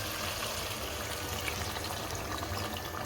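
Water poured into a pot of cooking aloo mutton shorba, potatoes and mutton, a steady close gushing and splashing pour that runs without a break, with no talking.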